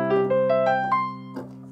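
Keyboard piano notes played without the sustain pedal rise step by step in a short run, each note clear and separate and dying away quickly, close and moderately loud.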